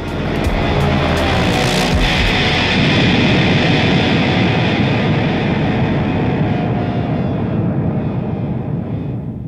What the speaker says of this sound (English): the sound of an airplane who has nosedived into a fiery collision with the Earth